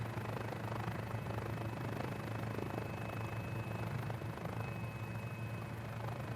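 A light Mini 500 helicopter in Microsoft Flight Simulator drones steadily with a low, pulsing rotor hum and a faint high whine, continuous and even throughout.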